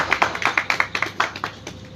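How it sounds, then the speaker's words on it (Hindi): Brief round of hand clapping from a gathered community audience at a welcome for a visiting Maharaj ji on a pilgrimage walk, sharp uneven claps repeating quickly over two seconds, close and moderately loud. "एक बार जोरदार तालियां महाराज जी के लिए"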